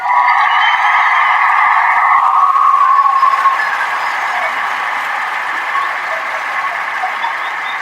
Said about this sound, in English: give a salute, round of applause to my brothers and sisters